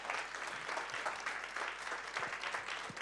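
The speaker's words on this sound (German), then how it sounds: "Einen herzlichen Applaus" Audience applause at the close of an event, a fairly faint, even patter of many hands clapping that continues steadily without voices.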